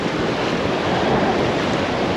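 Atlantic Ocean waves wash onto the Sahara Desert coast in a continuous, even roar of surf, mixed with cold wind buffeting the microphone, with no voices present.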